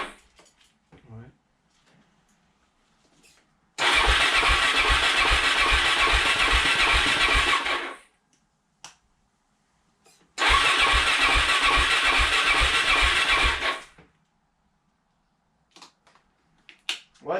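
A Suzuki DR-Z 400 SM motorcycle with the choke on is cranked on its starter in two long bursts of rapid rhythmic chugging, each about four seconds, separated by silence, and the engine never catches.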